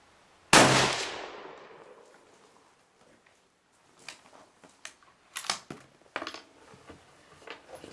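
A single loud, sharp gunshot fired at a target on a shooting range rings out near the start and decays over a second or so, followed by a series of quieter clicks and knocks.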